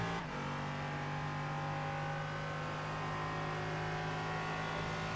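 Race cars in a sim racing game at Road America, a pack of GT4 cars running in a train, their engines droning steadily and loud throughout with no voices.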